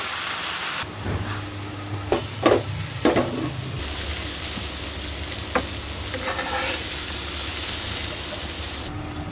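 Potatoes frying in oil in a pan, a loud steady sizzle with a few stirring clatters early on, continuing alone without any talk.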